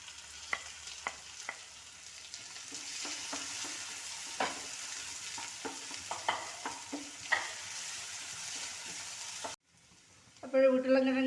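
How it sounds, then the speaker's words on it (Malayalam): Potatoes sauté in hot oil in a pan, a soft continuous sizzle broken by scattered clicks and scrapes of stirring, ending in a brief clatter. "അതിലേക്ക് നമുക്ക് ഈ ഓരോ സാധനങ്ങളിട്ട് വഴറ്റാം. ആദ്യം ഞാൻ ഇടുന്നത് ഉരുളക്കിഴങ്ങാണ്."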